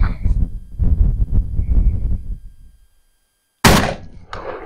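A single loud blast from a Beretta A300 semi-automatic shotgun cracks out after a stretch of background noise and near silence, followed by a shorter second report or echo.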